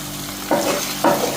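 Masala fries in ghee on a low flame for a prawns ghee roast, a soft continuous sizzle broken by two short scraping stirs of a spoon in the pan.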